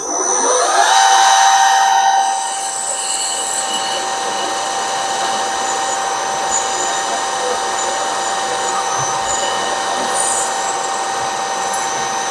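A new 5.5mm power drill whines steadily as it bores into a cast iron valve chest cover, rising briefly at the start then holding a loud, even pitch throughout.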